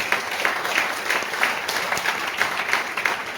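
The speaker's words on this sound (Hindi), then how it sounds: "जोरदार तालियां देना चाहूंगा।" Sustained audience applause at a seminar-style business motivational event, dense and even clapping from a sizable crowd throughout, fairly loud and unbroken with no voices on top.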